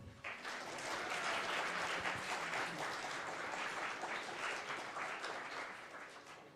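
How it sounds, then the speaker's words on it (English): A room full of people applauds game jam winners, dense steady clapping sustained throughout, fairly loud and even with no speech over it. "So big round of applause to them once more"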